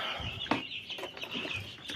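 Newly hatched chicks taken from an incubator give short, high peeping calls with a few soft clucks, close and fairly quiet, repeating irregularly.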